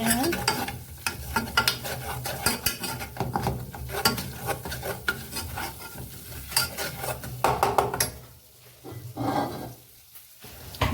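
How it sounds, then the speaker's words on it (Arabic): Flour stirred and toasted in butter in a pan for a gratin, with continuous scraping and stirring strokes over a steady close sizzle, briefly easing near the end before resuming. "الدقيق ضروري خصو يتحمص في الزبده مزيان"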